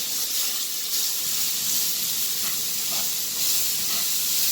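Chopped sweet onion sizzles steadily in a hot pan as it browns, a continuous close hiss with faint crackles and no talking.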